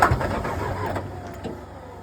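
A diesel engine on an off-grid property cranks over in cold weather, laboring and trying to catch without firing; a steady low churning continues under faint background sounds, alone with no voices.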